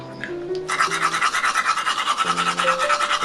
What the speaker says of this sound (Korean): 맛도 먹은 다음에 무조건 양치해줘야죠.